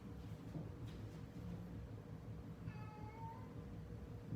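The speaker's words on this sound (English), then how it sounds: "Hello, cat." A house cat gives one short, faint meow, rising then falling, against a low steady background hum in a quiet room, with no talk.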